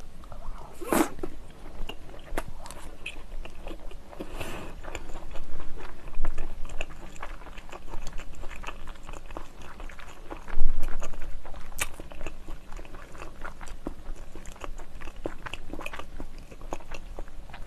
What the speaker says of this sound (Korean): 우선 광어인 것 같아요. 끝에서부터 먹어볼까요?